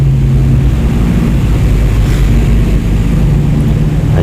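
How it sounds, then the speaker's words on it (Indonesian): Road traffic of cars and motorbikes passing just beside a roadside phone repair shop, a loud continuous engine drone and rumble that fills the whole stretch. "suara mobil, motor gitu. Soalnya konter saya ini persis di samping jalan ya."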